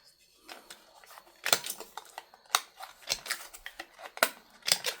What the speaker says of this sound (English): I also feel like rounding the cards.